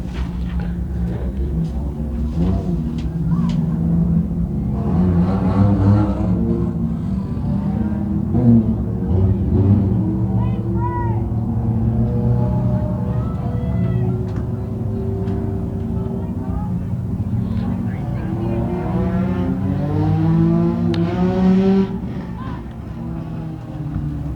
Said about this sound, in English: Our Sundance Leisure ThunderCars ready to go. First of 2 heats.